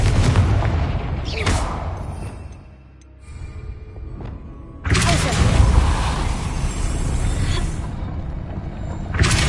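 Explosive Confringo spell in Hogwarts Legacy, loud fiery bursts with a broad roar, dipping briefly mid-way before a second heavy blast and sustained crackling rumble.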